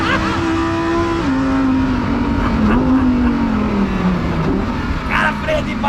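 A Lamborghini Huracan STO on a race track, its engine droning loud and steady throughout with the pitch dipping and rising as it brakes and accelerates, with a voice talking over it.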